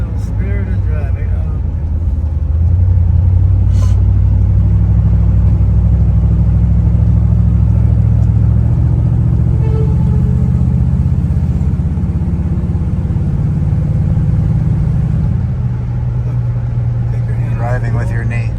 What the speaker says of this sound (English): They like to see a little spirited driving.